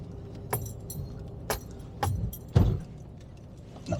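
A car on a very steep, roughly 1-in-3 road near Hardknott Roman Fort jolts over a big pothole: a few sharp knocks and rattles, with two heavier low thumps near the end, over a steady engine drone.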